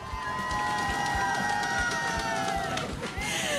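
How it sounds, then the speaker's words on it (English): A congregation at a Sunday morning worship service claps and cheers, making a dense, steady wall of crowd noise with sustained musical tones running through it and scattered sharp hits. "Clap it up, everybody."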